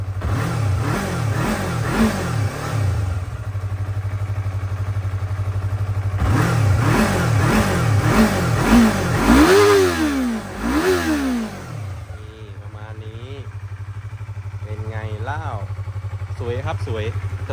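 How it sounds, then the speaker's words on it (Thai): A 2016 Yamaha YZF-R3 Movistar sport motorcycle with 33,000 km is revved repeatedly while parked, loud close blips rising and falling in quick bursts over a steady idle, with someone talking in between. "เดี๋ยวมาเร่ง ดูรอบเครื่องยนต์กันนะครับ"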